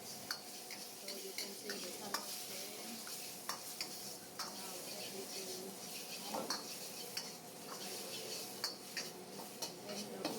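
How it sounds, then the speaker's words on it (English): Pad Thai noodles sizzle steadily in a pan while a utensil stirs and scrapes, with occasional clinks of metal against the pan. "And then you fry and mix together."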